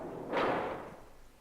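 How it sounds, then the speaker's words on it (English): A numbered door in the video game 999 slams shut, a single loud thud with a short echoing tail fading over about a second. "He heard the sound of the numbered door slammed shut behind him."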